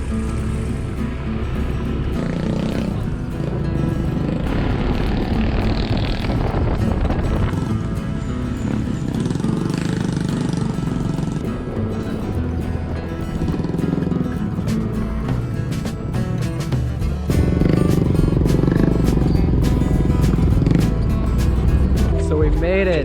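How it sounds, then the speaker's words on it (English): A motorbike rides along a rural road in the Philippine provinces, a continuous engine and wind rumble heard up close while people talk over it throughout. "All right, we got the bike started,"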